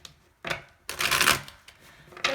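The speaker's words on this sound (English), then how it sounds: "I'll do one more shuffle." Tarot cards being shuffled in quick riffles: a short burst, then a longer rustling flurry, and another brief shuffle at the end, close by.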